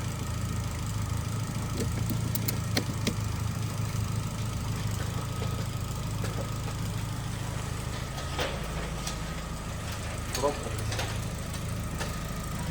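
A Smart Fortwo with a 0.9 turbo engine idles steadily nearby, a low, even hum with occasional light knocks and clicks.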